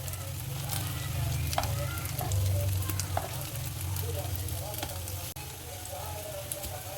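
Triangle-cut bread slices fry in hot oil for shahi tukray, giving a steady crackling sizzle with occasional sharp pops, while a voice speaks quietly underneath.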